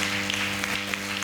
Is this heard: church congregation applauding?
yes